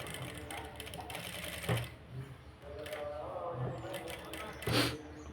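A sewing machine stitches piping with a continuous low mechanical whir and a few louder thumps, fairly faint and close, and a voice talks over it.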